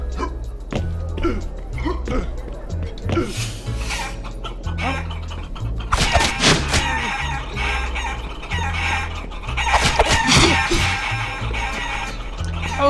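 Chickens cluck and a rooster crows in the Guacamelee! Gold Edition video game, with repeated bursts of fowl calls over a steady game music bed and a short dog-like bark mixed in.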